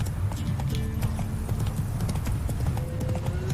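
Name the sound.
horse galloping in The Witcher 3 video game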